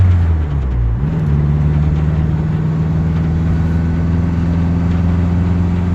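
A Boosted EM1 car drives steadily at night with a loud, continuous low engine drone and road rumble, the pitch dipping briefly early on before holding level.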